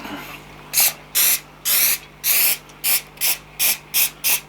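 A spray nozzle hisses in a series of about nine short bursts, evenly paced and close by, with no voices.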